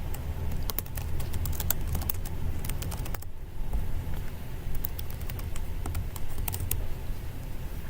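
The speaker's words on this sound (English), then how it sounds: "And then type in your address." An address is typed on a computer keyboard in quick, close, irregular bursts of key clicks over a steady low background hum, with a short pause partway through and no talking.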